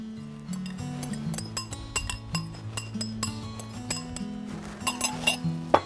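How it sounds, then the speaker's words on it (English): A whisk clinks rapidly against a bowl while vinaigrette is whisked for a grilled corn salad, a steady close run of light metallic taps with a sharper clink at the end. "Give it a whisk before you add it to your salad."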